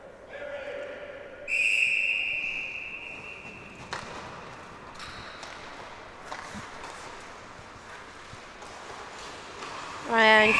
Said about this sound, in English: The player cannot touch the puck until the referee blows his or her whistle.